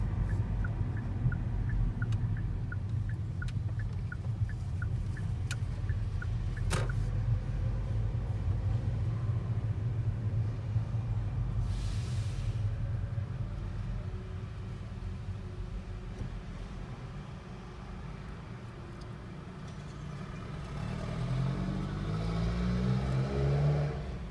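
A driving school car rolling toward the hill start and L-park area, with a steady low engine rumble and road noise throughout and a slight rise in revs near the end.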